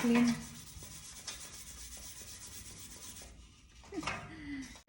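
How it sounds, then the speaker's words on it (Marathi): A brush scrubs a tarnished silver item during home cleaning, making steady, rapid rasping strokes up close that carry through most of the clip, with a brief pause near the end before the scrubbing returns. "याने तसं असं घासायचं आहे"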